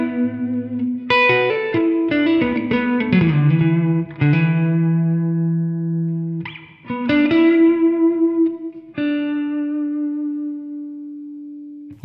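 Electric guitar notes and chords from a ToneX One pedal ring out drenched in heavy, saturated reverb, each phrase washing into a long sustained tail, played alone.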